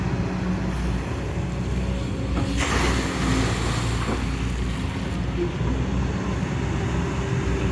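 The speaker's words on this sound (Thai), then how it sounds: "นี่ก็เปิดน้ำ เปิดทางน้ำออกมาไหล ออกมาตรงนี้ครับ" Water rushes out through an opened drainage channel, a steady, close broadband wash mixed with gusty wind noise on the microphone.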